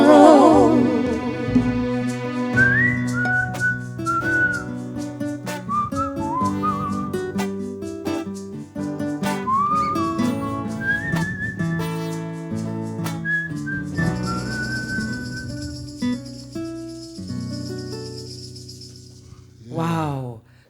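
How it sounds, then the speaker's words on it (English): A person whistles a melodic tune over a musical backing of guitar and other instruments, the bright wavering whistle lines rising and falling through the passage at close range. "It's actually you whistling."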